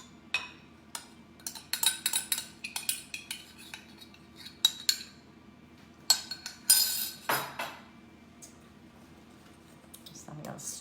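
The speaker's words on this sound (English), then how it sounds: "So I'm going to stir that around, mix it like that." A spoon stirs and scrapes a sweet potato soufflé mixture with melted butter and sugar in a bowl, producing repeated clinks and knocks in irregular bursts, close and clear.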